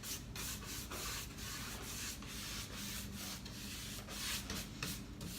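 Dark wax rubbed by hand onto a layered metallic painted finish, a close, rhythmic scratchy rubbing in quick repeated strokes with no talk.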